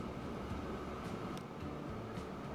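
Electric train rolling along the track in Transport Fever 2, a steady, dense rumble with faint rattling, moderately loud and continuous with no talking.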